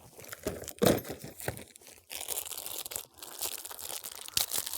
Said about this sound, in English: it comes inside this little plastic bag